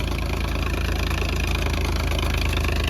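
A tractor engine with a silencer fitted, running at a steady idle-like throb with a continuous low, even rumble and no break, with no voices over it.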